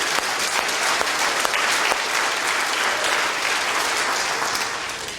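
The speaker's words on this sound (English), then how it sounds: "go ahead, we can applaud that" A church congregation applauds during a sermon, steady broadband clapping holding at full volume from start to finish, with no voices standing out above it.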